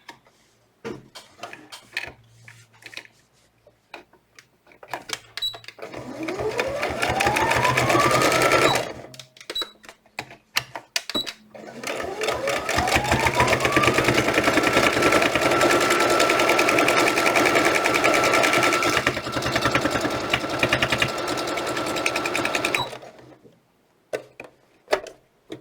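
A sewing machine stitches all the way around a fabric teddy bear's head in two long, loud, steady runs with a short pause between them, with a quiet lead-in of handling before and after.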